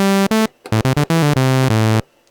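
A Roland SH-09 analog synthesizer plays its bright, buzzy sawtooth waveform as a quick series of loud, separate notes at shifting pitches, ending in silence.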